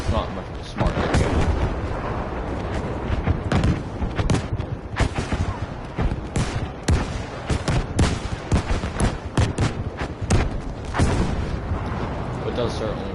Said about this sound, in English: Someone's calling it an airstrike on this area. It's hitting mainly the roof